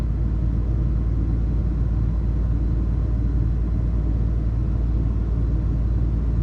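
A 2006 Dodge RAM 1500 truck engine, with the engine light on, holds a high, steady rev: a loud, continuous low rumble that stays constant throughout.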